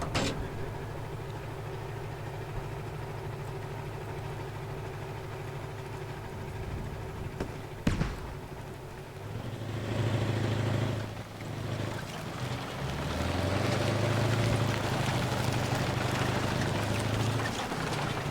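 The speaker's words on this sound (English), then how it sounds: "Enemy vehicle, enemy vehicle." Enemy vehicle engine in the military shooter game Squad, a steady low rumble and drone that swells louder midway and keeps growling, with a sharp bang around the middle.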